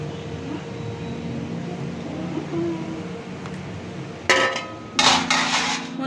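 Spices and herbs for a homemade kadha are pounded in a kitchen, with a few sharp, close strikes near the end over a steady background hum.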